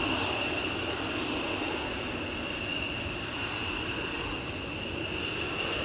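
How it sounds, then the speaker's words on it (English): Loud, steady engine roar of a vehicle taking off, a broad continuous rumble with a high whining tone holding throughout, with no voices over it. "Tony Strickland, the customers in my taxi are loving the loud roar of engine as they take off through the stereo."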